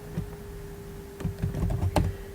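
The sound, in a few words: typing on a computer keyboard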